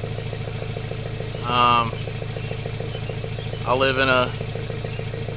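A Nissan S13 KA24DE engine with a straight-pipe catback exhaust idles steadily with a low rumble while someone talks over it at moderate volume.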